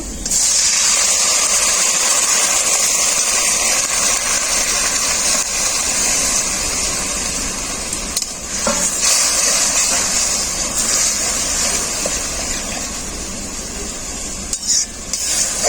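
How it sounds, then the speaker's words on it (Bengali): Jute greens hit a pan of lightly fried garlic with a loud, steady sizzling hiss. The steamy roar stays strong and continuous throughout, with a few brief clatters near the pan. "রসুনটাকে হালকা করে ভেজে নিয়েছি। এরপর শাকটা দিয়ে দেব।"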